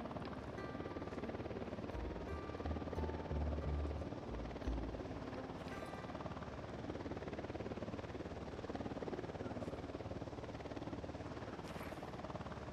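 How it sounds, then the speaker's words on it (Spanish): Helicopter drawing nearer in Ghost Recon Wildlands, a steady rotor drone with low thumping bursts early on, holding at a constant moderate level over game ambience. "Se acerca un helicóptero."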